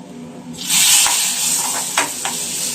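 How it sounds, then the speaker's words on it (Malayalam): A pinch of chili powder sizzles and hisses in hot oil, a steady close frying hiss with a few brief stirring clinks. "1 നുള്ളു മുളകും പൊടിയും കൂടി ഇതിൽ കിടന്ന് മൂത്ത് വരണം കേട്ടോ."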